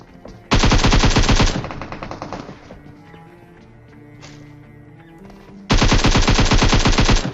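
Loud automatic gunfire from a battle royale video game rattles in two long bursts, one at the start and one near the end, with quieter in-game ambience and faint thuds in between.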